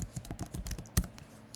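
Fingers type a command into a terminal on a MacBook keyboard, a quick run of close, light key clicks with one sharper tap near the middle.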